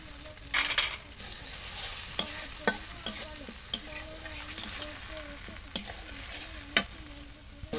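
Spatula stirring of a spice paste with turmeric and salt frying in a pan, a steady sizzle broken by repeated scraping strokes and occasional sharper knocks against the pan, close and alone with no voices.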